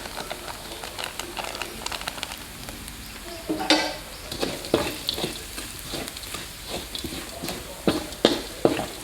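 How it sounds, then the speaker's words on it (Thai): Steady sizzling of stewed-egg spice mix with five-spice powder being stir-fried in a hot pan, with scraping and clattering strokes of a utensil at an irregular rhythm, close up. "ก็ผัดจนหอมครับ"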